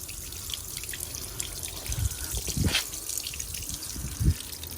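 Water rushing and trickling through a Viessmann boiler's plate heat exchanger as it is flushed of salt flakes, a steady close hiss with gurgling swells and a couple of louder splashes.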